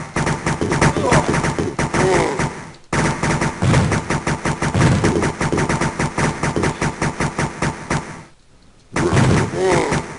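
Rapid bursts of enemy gunfire in the shooter Dark Arena, loud and close, with dense rattling volleys running for several seconds, a brief break, then more shots and a short silent gap near the end.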